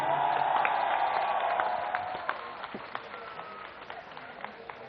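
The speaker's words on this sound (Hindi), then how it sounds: "अपने लिए जोरदार तालियां बजा दो।" A crowd at a Jantar Mantar protest gives a burst of applause that starts dense and then fades into scattered individual claps over a few seconds.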